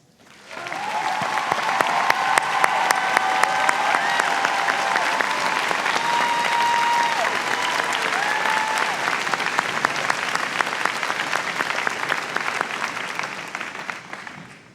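Sustained audience applause fills a college commencement ceremony at Berea College, a dense, even patter of many hands clapping for about fifteen seconds before fading out at the end.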